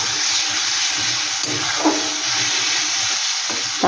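Garam masala stirred and fried in a pan for a bhetki fish-bone chorchori, a dense hissing sizzle with occasional scraping stirs and a small knock, near and fairly loud, no voices.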